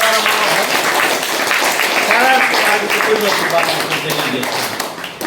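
An audience at an ashram claps for a boy's birthday celebration in loud, sustained applause, mixed with voices throughout.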